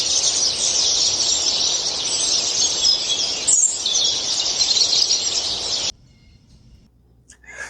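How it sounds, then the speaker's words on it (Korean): Birds chirp at dawn in the trees near a house, a dense, steady chorus of high twittering that carries on for several seconds and then stops suddenly, leaving near silence. "해 뜨기 전부터 시작되는 새소리는 정말 장난 아닙니다."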